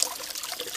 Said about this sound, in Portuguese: Água com gás e limão para você se preparar para as próximas coxinhas.